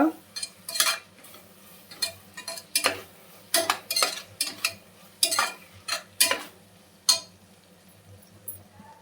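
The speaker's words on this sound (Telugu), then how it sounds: "అల్లం వెల్లుల్లి పేస్ట్ కూడా యాడ్ చేసుకున్న తర్వాత మంచిగా ఫ్రై చేసుకోవాలన్నమాట." Ginger garlic paste and tomatoes frying in a pan, with repeated metal spoon stirs and scrapes clinking against the pan in an irregular rhythm over a faint low sizzle, close and fairly loud, no talking.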